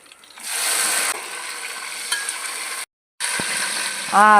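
Banana flower biryani base of onions, mint and coriander sizzles steadily in a pan as bay leaf and tomatoes go in, with a brief silent break and a short, tonal squeak near the end.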